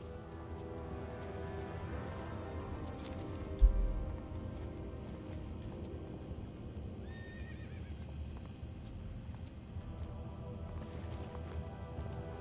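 Hooves of a horse being ridden in a video game, a steady clip-clop gait running continuously under layered game music and effects, with one brief thump partway through.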